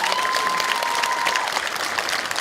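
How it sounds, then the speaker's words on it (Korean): At a Korean book concert attended by the South Chungcheong provincial governor, an audience bursts into big applause, a loud, sustained, even clatter of many hands that fills the whole stretch. "커다란 박수 한번 부탁드릴까요"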